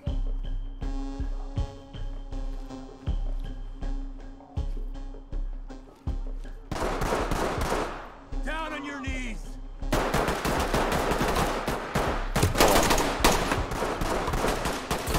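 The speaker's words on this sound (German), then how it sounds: "waren jetzt viele Schüsse" A tonal, musical passage gives way to loud, dense bursts of rapid gunfire in the video game Ready or Not that crackle on and off, then pour out almost continuously.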